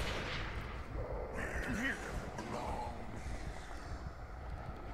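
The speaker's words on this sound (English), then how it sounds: "Who's shooting at me from where?" Gunfire in the horror game Call of Cthulhu: Dark Corners of the Earth, scattered muffled shots mixed with game ambience and a rumbling background.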